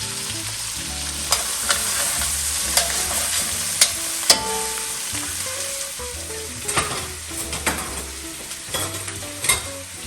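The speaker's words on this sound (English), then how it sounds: "Now let's give it a little saute." Pot roast vegetables with rosemary and thyme sizzle steadily in a hot pot, with scattered sharp clicks and scrapes of a spoon stirring throughout, no voices.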